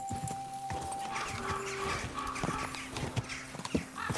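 Horse hooves clip-clop in the video game Kingdom Come: Deliverance 2, a quick irregular run of hoofbeats with light clatter and a brief tonal game sound, loud and near with no talk.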